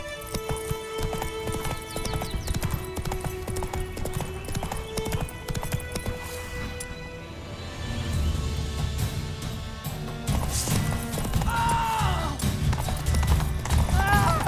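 Hooves of the horse Roach clip-clop steadily in Witcher 3, running close over a layered orchestral score with occasional whinnies.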